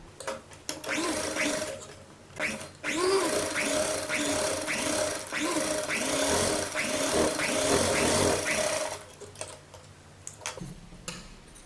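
A sewing machine stitches piping along a kurta neckline in quick rhythmic bursts of ticking needle strokes, stopping and starting, with quiet pauses at either end.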